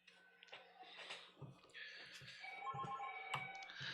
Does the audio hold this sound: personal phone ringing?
yes